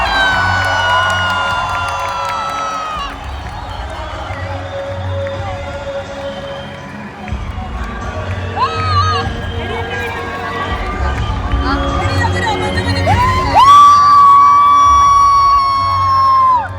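A large crowd cheering and whooping at the Wagah border parade, loud and continuous, with shouts, whistles and music mixed in and voices talking over it.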